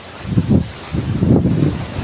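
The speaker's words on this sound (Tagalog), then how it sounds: "Lalakang alon." Big sea waves and strong wind near a fishing boat, heard as loud rumbling surges of surf and gusty wind buffeting in two heavy swells.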